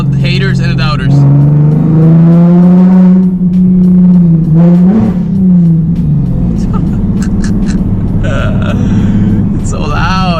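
A modified Nissan 370Z with a loud aftermarket exhaust revs hard on a city street, the engine note rising and falling close by, with a voice talking over it.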